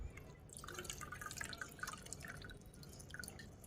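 Water drips and trickles steadily from a wet makeup sponge as it is squeezed out, a soft, close, continuous patter of droplets with no talking.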